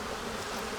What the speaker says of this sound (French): Quelques abeilles avec du pollen. Beaucoup de jeunes abeilles